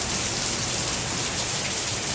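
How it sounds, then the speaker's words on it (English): Rain pours down steadily outside a home during a storm, a dense, even hiss of drops with no pauses or voices. "it's raining"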